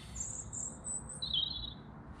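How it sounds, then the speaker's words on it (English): Birds chirp and tweet in short, high, clear calls on a cold morning campout at minus six Celsius, several calls in succession over a faint, quiet outdoor background. "The birds are singing."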